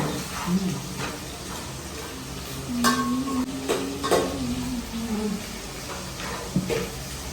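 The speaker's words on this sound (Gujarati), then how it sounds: "આજે લાઈફમાં પહેલી વાર ભીંડાની સબ્જી હું પકાવું પેલા તેલમાં" Okra sabzi sizzles softly in hot oil while being stirred, with a low continuous frying hiss broken by occasional clinks of a spoon against the pan.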